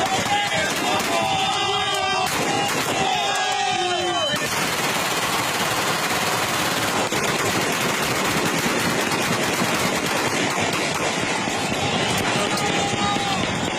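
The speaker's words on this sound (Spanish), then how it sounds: "un grupo de reos fuertemente armados y lanzando tiros" Gunfire from heavily armed prison inmates shooting into the air in Venezuela, a dense outdoor barrage of sharp cracks and rattling bursts over crowd noise and voices, continuing steadily throughout.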